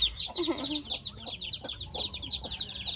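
Newly hatched chicks cheep rapidly and continuously at high pitch while adult chickens cluck in lower tones beneath them, close by in a rural yard in Lombok.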